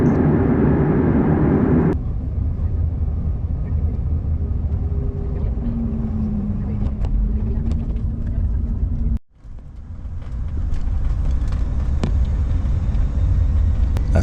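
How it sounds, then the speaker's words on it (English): An airliner taxis to the gate at Madrid's airport after landing, its engines giving a loud, steady cabin rumble that shifts in pitch and briefly dips partway through. "After landing in Madrid, the taxi to the gate took forever."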